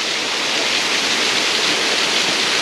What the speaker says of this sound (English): Look at the little stream of water running off the edge there.